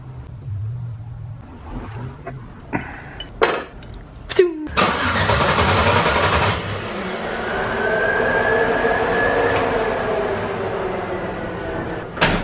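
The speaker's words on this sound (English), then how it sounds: "I disconnected the fuel pump right here, and then I cranked the engine" An LS-powered Chevrolet Blazer race car cranking with its fuel pump disconnected: a few clicks and short starter bursts, then a long steady whirring crank that never catches, loud and close.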